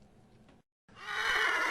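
A cavalry horse neighs loudly and close by, a long, strong whinny that bursts in after a brief low rumble and a moment of silence.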